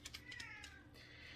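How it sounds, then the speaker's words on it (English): A house cat meows in the room, a short bright cry near the start that trails off into a softer drawn-out tone over low background hum. "Sorry, that's the cat."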